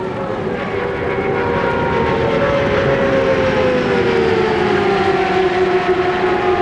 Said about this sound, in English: Distinctive sound of turbocharged IndyCar engines.